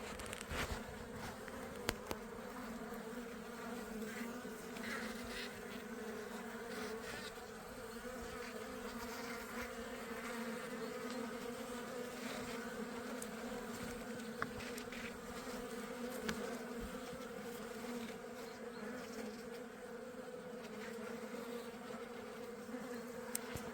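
Honey bees buzz around their hives after surviving the winter, a constant layered droning hum from many insects nearby, steady for over twenty seconds with a few brief clicks and no talking.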